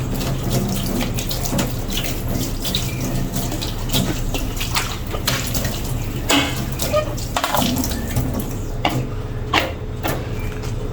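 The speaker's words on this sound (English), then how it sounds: "And this is the bowl I'll be mixing the tuna in. Give that a wash." Tap water runs steadily into a sink while a bowl is washed, with splashing and clinks of the bowl over the continuous close stream.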